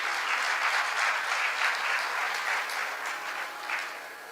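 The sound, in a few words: audience clapping, applause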